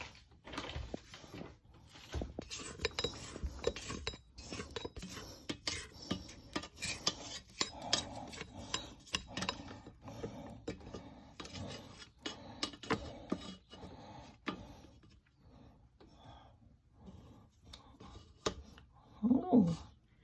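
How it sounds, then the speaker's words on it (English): A spatula scrapes and rubs around the sides of a mixing bowl holding sticky pan de sal dough, giving repeated close, soft scraping strokes with brief pauses between them. "I'm going to stop it and use the spatula and get the sides"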